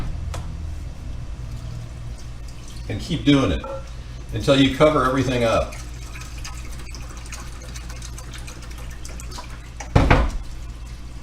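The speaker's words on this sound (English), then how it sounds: "Then fill your can up with water and pour it right on top of the rice." Water poured from a can over rice and pulled pork in a pot, giving a low, steady running splash under a speaking voice, with a louder pour near the end.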